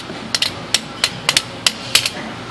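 Metal tapping seats the tail pin of a lock during assembly: about eight light, sharp, close taps in an uneven rhythm, some in quick pairs, with nothing else heard.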